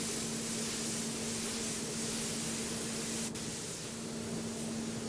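A 3M PPS spray gun sprays paint with a steady, even hiss and a faint constant tone underneath, continuous and close throughout.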